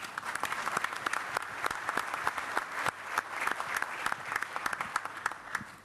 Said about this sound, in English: a round of applause as well